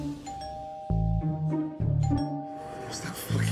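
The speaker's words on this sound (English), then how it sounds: "What is that doorbell on the side of the wall for?" A restaurant kitchen service bell chimes repeatedly, three bright two-tone rings spaced about a second apart, with voices talking in the background between them.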